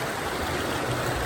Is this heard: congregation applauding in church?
no